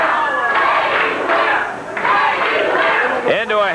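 Wrestling arena crowd at a CWA Memphis event shouting and chanting loudly, a dense, continuous roar of voices with rhythmic swells, alone and close throughout.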